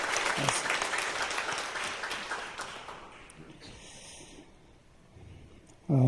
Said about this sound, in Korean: 여러분 우리 한번 두 분에게 큰 박수로 한번 축하를 해주시면 감사하겠습니다